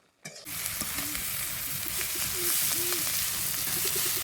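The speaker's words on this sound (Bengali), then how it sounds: "এবার পেঁয়াজটাও আস্তে আস্তে ভেজে নেবো।" Chopped onion with cumin seeds frying in hot oil in a pan, a steady close sizzle running the whole time with faint stirring scrapes and no voices.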